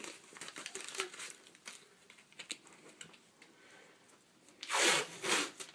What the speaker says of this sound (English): And you want to put some tape just below the injured area.